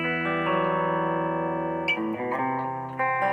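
An electric guitar plays a lick through distortion and effects: a long sustained chord-like tone rings for about two seconds, then a quick run of hammered notes follows, loud and close with no talking.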